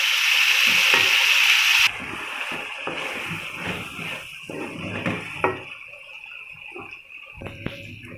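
Vegetable pulao ingredients with mint fry in a pot, a loud hiss that drops suddenly to a softer sizzle, with scattered utensil clinks and scrapes nearby.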